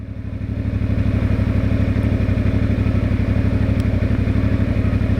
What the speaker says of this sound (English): the fan's just kicked on now because we've stopped